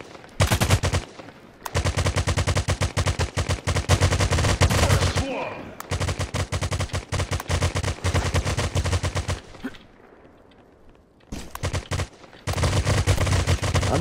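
Automatic gunfire from the browser FPS Crypto Shots hammers in long, loud, rapid bursts with short pauses between volleys, and a voice is heard briefly during a lull.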